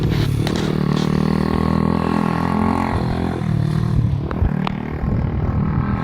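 A dirt bike rides around a house with a steady engine drone and rumble, plus scrapes and clatter toward the end, at moderate distance.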